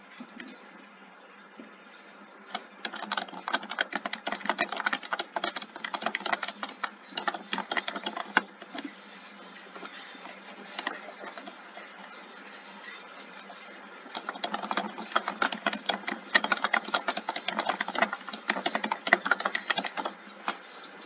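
Computer keyboard keys clatter in quick irregular bursts during a Friday Night Funkin' game session, with quieter pauses between runs of typing and a faint steady hum underneath.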